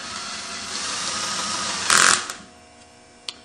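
Electric screwdriver set to its lowest torque setting, about 2 foot-pounds, running a screw in during reassembly of a Yamaha YFZ crank: a steady whirring hum with a louder burst near the end, then a single faint click.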